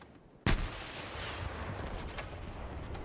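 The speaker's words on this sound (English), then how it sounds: "Yeah, these explosions sounds really good too." A sudden sharp blast from a bazooka-style weapon in the shooter Battlefield is followed by a long rolling roar of debris and rumble that fades slowly, with faint later pops, no speech.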